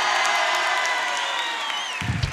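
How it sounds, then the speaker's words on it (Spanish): A studio audience at a Halloween comedy show cheers and applauds in a loud, continuous roar of clapping with whoops and shouts, ending with a short thump near the close. "Fuerte el aplauso para Pilín."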